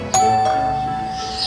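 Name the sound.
doorbell ringing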